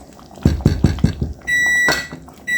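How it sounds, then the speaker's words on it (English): A kitchen timer lets out steady electronic beeps while potato salad and cranberry sauce are being made. A few soft thumps come first, then two clear sustained beeps sound close by, with another starting at the end. "And there's our timer, folks."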